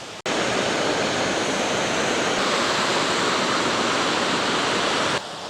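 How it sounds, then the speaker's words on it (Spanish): A small autumn waterfall in the Pyrenees pours in a steady, loud, close rushing roar, unbroken from start to finish. "Otro punto de vista de la misma cascada."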